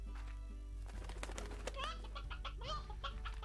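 A briar hen in the video game Slime Rancher gives a run of chirpy, warbling clucks and squawks over a steady low game hum, close and clear, with no talking.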